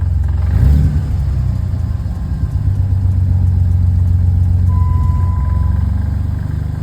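A Jeep in limp mode with a fault code, its engine idling then revving under throttle, a loud steady drone with a rise early on and a thin whine later, no speech.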